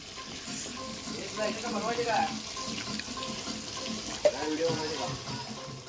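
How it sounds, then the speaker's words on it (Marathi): Prawns frying in a pan at a homestay kitchen in Alibag, a soft sizzle with stirring clatter, a sharp clink near the end, and people talking over it. "आपला झिंगा फ्राय होत आहे."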